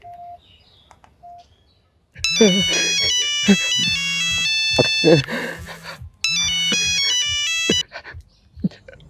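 A phone ringtone plays loudly as a call is placed, a bright repeating melodic tone in two long stretches with a brief pause, while people talk over and around it.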